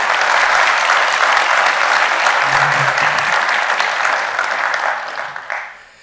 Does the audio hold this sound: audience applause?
yes